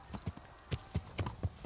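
Horse hooves clip-clop in Kingdom Come: Deliverance in an uneven rhythm, about a dozen sharp hollow knocks at a moderate pace, fairly close and alone.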